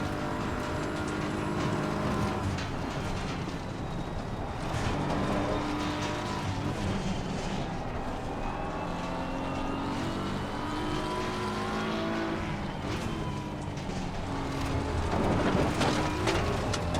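Race car engines roar without a break as a Porsche and a Ford Mustang battle on the Nordschleife in a multiclass endurance race in Assetto Corsa Competizione, with a dense, steady drone that swells slightly near the end.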